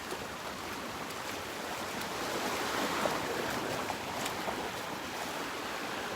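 Ocean surf rolls onto a beach at Delnor-Wiggins while a hurricane churns offshore, a steady broadband roar of breaking waves that swells slightly midway, with some wind buffeting and no voices.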